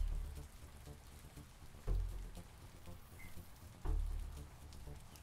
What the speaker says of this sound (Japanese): この国ずっと雨降ってんな。